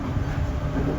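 A JR 311 series train runs on a special rapid service, giving a brief, steady low rumble and hum of the moving carriages heard from inside, fairly quiet with no distinct clicks.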